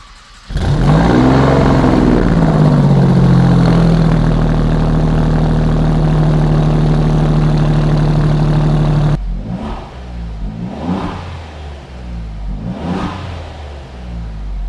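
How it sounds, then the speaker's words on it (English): An Alfa Romeo sports car with a V6 engine revs loudly and up close, a steady held rev followed by several sharp throttle blips that rise and fall; no one talks over it. "The car's powered by a V6, which is why it sounds so good."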